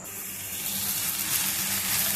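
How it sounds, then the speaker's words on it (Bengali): Water pours into a pan of soybean curry, a steady hissing gush with a faint sizzle beneath, heard up close and alone for about two seconds. "এবার জল দেবো।"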